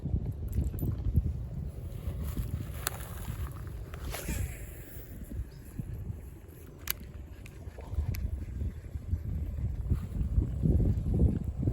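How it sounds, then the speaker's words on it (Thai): Strong wind buffets the microphone over churning, choppy pond water, a continuous rough roar with occasional thumps and splashes. "นี้น้ำแรงนะครับ ลมแรงน้ำแรง"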